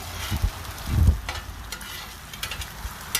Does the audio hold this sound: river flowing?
no